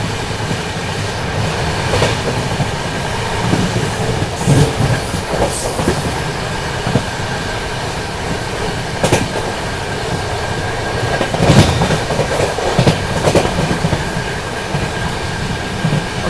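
Paschim Express running at speed past Chhayapuri station, heard from on board as a loud, continuous rumble with rhythmic clickety-clack of wheels over rail joints and occasional metallic squeals, no talking.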